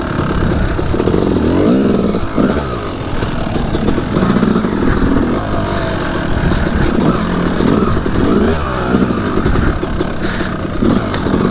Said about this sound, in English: The more throttle you give it and the higher you get in the RPMs